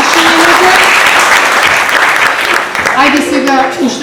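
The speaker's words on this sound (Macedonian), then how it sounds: "Ајде сега уште еден аплауз ве молам" An audience claps steadily at a first symposium of an emergency medical aid society, a dense, sustained round of applause lasting the whole stretch, with a voice briefly heard over it near the end.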